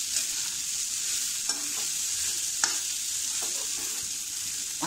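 Fried rice (fodnicha bhat) stirred in a kadhai over low gas sizzles softly and steadily, with scattered scraping clicks of the spoon against the pan, no voices.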